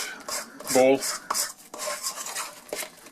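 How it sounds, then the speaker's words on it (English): A spoon stirs a mixture in a bowl and scrapes its sides, giving close rasping, rubbing strokes with a brief clink of utensil on the bowl, heard alone. "So I'm going to stir this in, scraping out the sides of the bowl."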